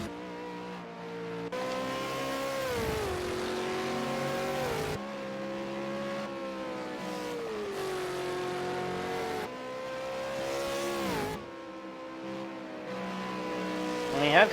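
V8 Supercar race cars in the racing game Project Cars at Bathurst Mount Panorama, engines revving and rising through gear changes with repeated upshifts and downshifts, loud and continuous, with a commentator talking over them.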